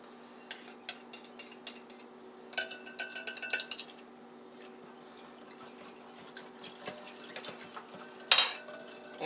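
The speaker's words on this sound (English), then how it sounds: "Okay, we're going to mix this well. I actually might get a whisk out." A whisk scrapes and taps rapidly around a bowl while a rib marinade is mixed, making bursts of close metallic clicking and clinking with short pauses between them.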